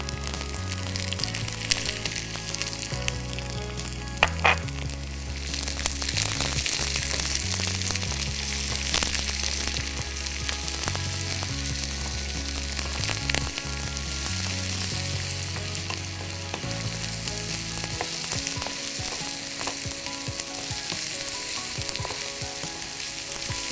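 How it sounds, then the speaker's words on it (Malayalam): Finely chopped shallots fry in hot oil for a beef and Chinese potato dish, giving a dense, continuous sizzle with occasional stirring scrapes. The sound is loud and close, with background music running underneath. "ഈ സമയത്ത് നമുക്ക് ചെറിയ ഉള്ളി ചെറുതായി അരിഞ്ഞത് നമുക്കിതിലേക്ക് ചേർക്കാം."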